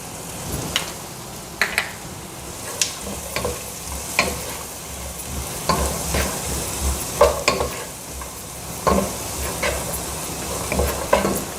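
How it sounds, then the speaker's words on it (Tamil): Peas and tomato sautéing for vegetable pasta in a pan, a steady soft sizzle with frequent spoon stirs and scrapes throughout, close and without talk. "இதெல்லாம் போட்டு வதக்கலாம்"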